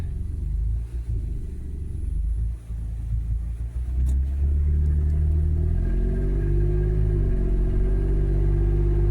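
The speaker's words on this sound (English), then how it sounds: "Let's go take it for a drive. Alright, coming out of the driveway here. Put it in drive" Toyota FJ Cruiser pulling out of a driveway and driving off, a low engine rumble that rises as it accelerates, heard steadily from inside the vehicle with no talking.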